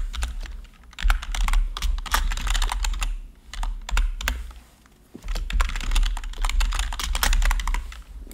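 Rapid typing on a computer keyboard, close and clattery, runs in dense bursts with a short pause midway before resuming, under a low steady hum.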